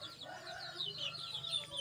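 Chicken clucking close by on a farm, a steady run of short, repeated clucks with bright calls over faint background hum, no talk.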